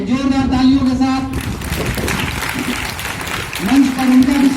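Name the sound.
applause at a school award ceremony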